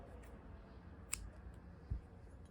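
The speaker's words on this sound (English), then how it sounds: "So I'm gonna cut a little tail" Scissors snip a crochet yarn tail in a quiet room, giving one or two faint, short clicks close to the microphone.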